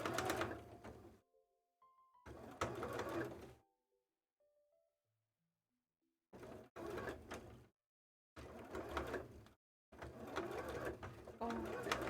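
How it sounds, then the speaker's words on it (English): A sewing machine stitching a cosplay tail around tight corners runs in short bursts of fast, buzzing needle clatter, separated by silent pauses. "I'm just taking a little bit longer to sew around them"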